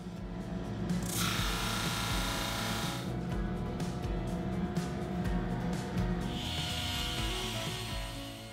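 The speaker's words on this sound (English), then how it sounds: "run the board through the sander, taking just a little bit off with each pass" A wooden cutting board fed through a sander, one light pass at a time: a steady, loud mechanical grinding drone with a bright rasping surge as the board passes through, continuous for the whole stretch with no talk.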